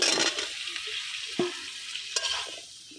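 Vegetables hit fried masala in a pan and get stirred, giving a bright sizzle with a few sharp spoon knocks and clinks. The frying is loudest at first, then eases off, and no one talks over it.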